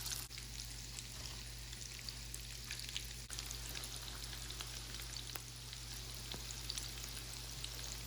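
Taro balls dipped in egg white and breadcrumbs fry in coconut oil, making a continuous, dense crackling sizzle with scattered sharper pops, steady and fairly quiet throughout, with no voices.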